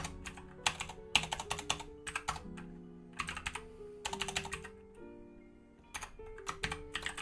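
Someone types code on a computer keyboard in quick bursts of close, crisp keystrokes separated by short pauses, with a soft background tone underneath and no talking.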